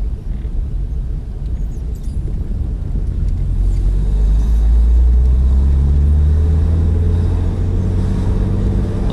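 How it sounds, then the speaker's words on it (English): A BMW E36 M3 engine runs rough and low while driving, nearly stalling, with a loud steady rumble that grows heavier midway through and continues without talk. "so instantly you can see the car is trying to stall."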